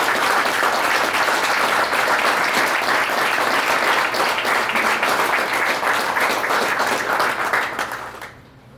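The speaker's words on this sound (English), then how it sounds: "give a big round of applause for every single one of them coming here" Loud, dense applause from a large audience at a live event, a continuous roar of clapping that holds steady for several seconds before fading quickly at the close.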